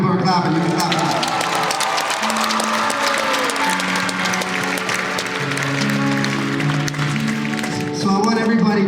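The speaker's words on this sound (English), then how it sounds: "People are clapping." A concert crowd claps steadily throughout, the dense applause running under sustained sung or keyboard tones and a bright, continuous wash of noise.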